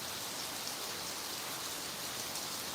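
Unbroken rainfall beats down on a village house and its roof, a close, uniform patter-and-hiss that holds at the same level throughout with no voices.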